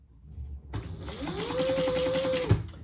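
A sewing machine stitches elastic onto a fabric travel organizer, running in one steady, close whirring burst of about two seconds after a short start-up, then stopping with a clunk.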